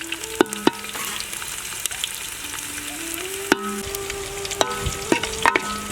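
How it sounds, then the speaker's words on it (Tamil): Garlic cloves frying in oil for a Tamil bitter gourd tamarind curry, a steady close sizzle with occasional sharp clinks of a utensil against the pan and faint tonal squeaks, no voices. "மேலே பார்த்தாலே தெரியும் பொரிஞ்சு வந்துருக்கும் பூண்டு."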